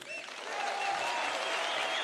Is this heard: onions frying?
no